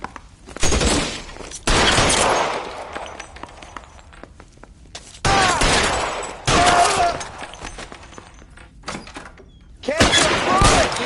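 Gunfire in L.A. Noire, loud bursts of shots erupting in several separate clusters, some rapid and rattling, with gaps of quieter ambience and footsteps between them.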